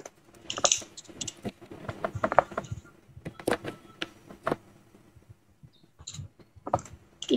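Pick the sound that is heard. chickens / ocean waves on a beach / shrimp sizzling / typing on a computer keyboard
typing on a computer keyboard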